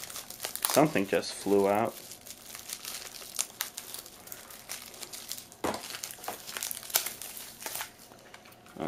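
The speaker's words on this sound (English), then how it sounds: "let's try to rip this plastic off" Plastic packaging crinkles and rips during the unboxing of a Cyber Acoustics product, with loud crackling bursts near the start and further crumpling further on, under intermittent talk.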